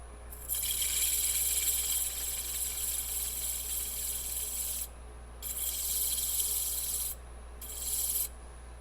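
Abrasive paper rubs against a turned wooden box spinning on a lathe, a steady hissing rasp over the motor's low hum, stopping briefly twice before resuming.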